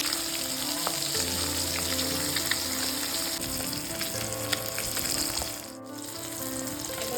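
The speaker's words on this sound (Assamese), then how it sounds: "এতিয়া মই মাছখিনি ধুনীয়া এটা গোল্ডেন ব্ৰাউন কালাৰ অহালৈকে ফ্ৰাই কৰি ল'ম" Fish frying in hot oil in a pan, a steady close sizzle running throughout with faint clinks and scrapes, no voices.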